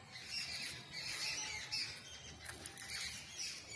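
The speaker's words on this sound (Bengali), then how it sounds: "এই পাখি ডাকছে।" Outdoor bird calls in a rural setting, faint harsh squawks and chirps repeating irregularly over soft background noise, somewhat distant.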